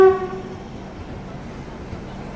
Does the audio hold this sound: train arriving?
yes